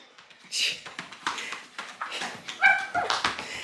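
A dog whimpers and yips indoors in a house, a run of high, close, uneven cries with a person talking at moments.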